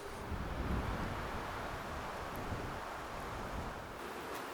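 Strong, steady wind roars and buffets the microphone outdoors on a cloudy hike in Finnish wilderness, a continuous broadband rush with no voices.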